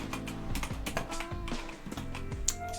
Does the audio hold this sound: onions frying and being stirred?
no